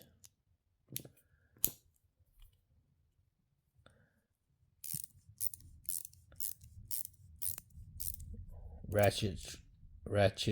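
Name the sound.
ratchet screwdriver tool clicking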